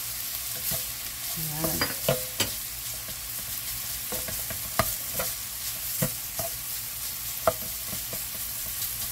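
Onions and Spam sizzle in a frying pan for kimchi fried rice, a steady soft fry broken by scraping spatula stirs and clinks, heard close and fairly quiet while a voice briefly speaks.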